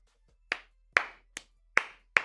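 A commentator claps his hands at halftime of a Cardinals football game, five sharp, separate claps spaced about half a second apart, close and fairly loud with no talking.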